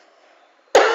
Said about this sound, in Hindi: सॉरी, खांसी हो रही है थोड़ी,